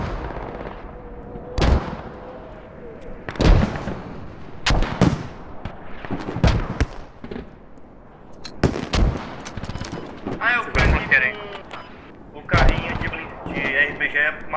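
Bursts of rapid gunfire in the game Squad, sharp and loud, separated by short pauses, with automatic volleys layered over one another.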